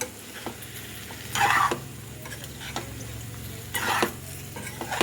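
A spoon stirs pappu pulusu with small onions and taro in a pot, giving a few scraping, clinking strokes over a faint, steady simmer. The stirring is close and fairly quiet, with no voices.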